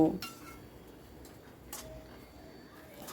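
A spatula scrapes and clinks in a pan of fried potatoes and spice paste, faint and close, with a few sharp metallic taps against the pan over a quiet kitchen background.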